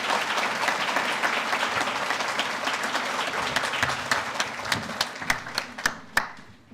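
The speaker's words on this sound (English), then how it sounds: "let's give all these recipients a round of applause" An audience at an honors convocation gives award recipients sustained, dense applause that thins toward the end into a few scattered, distinct claps.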